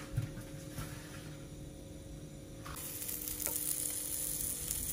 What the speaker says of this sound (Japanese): フッ素樹脂加工のフライパンなら、鮭を乗せてから着火、皮面から